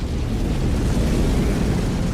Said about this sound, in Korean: 폭발하며 초신성이 됩니다.